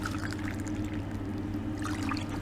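Two cups of water poured into a pot for cooking polenta, a steady continuous splashing pour heard up close with no talk.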